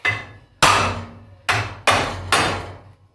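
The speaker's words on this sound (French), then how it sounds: "Un petit coup de marteau." A hammer strikes a heavy-duty truck ramp during a DIY adjustment: four sharp, ringing metallic blows at uneven intervals, each decaying briefly, loud and close with no talking.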